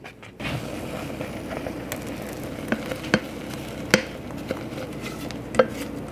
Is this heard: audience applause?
no